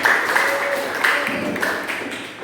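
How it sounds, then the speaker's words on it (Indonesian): Schoolchildren in a classroom clap for a presenting group, a short burst of moderately loud, fairly dense applause with a faint tone beneath, fading slightly over a couple of seconds. "tepuk tangan untuk kelompok 1 anak-anak"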